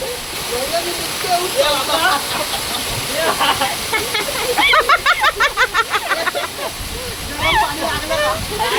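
A forest waterfall at Ghatkopar pours in a constant hiss beneath the shouts and chatter of several children playing nearby.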